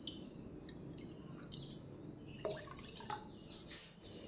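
Water is poured onto washed barnyard millet in a kitchen pot, with a few soft drips and splashes that sound quiet and close.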